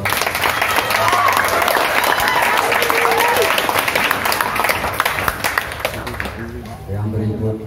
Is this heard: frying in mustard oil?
no